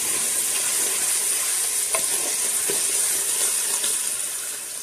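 Whole black cardamom pods and black peppercorns stirred in a hot pan for chicken shorba, a steady close sizzle with a few soft scraping clicks, no voices.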